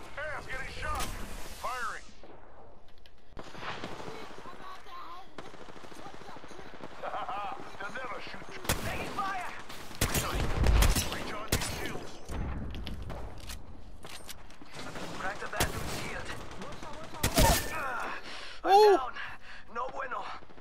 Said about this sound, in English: Hey, I'm getting shot.